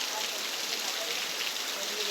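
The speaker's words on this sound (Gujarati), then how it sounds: "જોઈ લો વરસાદ, આવો આ રીતનો વરસાદ છે।" Steady rain pours down in a village, a dense continuous hiss of drops striking surfaces, even and unbroken throughout at moderate loudness.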